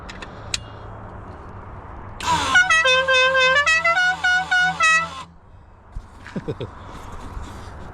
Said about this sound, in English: That's a little air horn there.